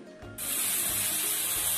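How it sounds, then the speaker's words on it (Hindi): About two cups of water, rinsed from the bowl used to grind garlic, are poured into a cooking pot of maqlooba, starting suddenly as a loud, close, steady splashing hiss that carries on alone. "लगभग दो कप पानी इसमें डाल रहे हैं"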